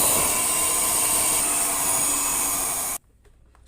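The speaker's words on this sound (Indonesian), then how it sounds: "teman-teman boleh menambahkan kecepatan mixernya ya teman-teman ya" Electric mixer running at higher speed while beating batter for an old-fashioned ice treat, a steady loud whirring drone that cuts off abruptly near the end, leaving near silence.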